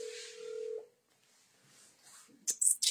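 A phone number is dialed by hand: a held tone fades, then a pause gives way to a few short, sharp keypad beeps near the end, close and moderately loud.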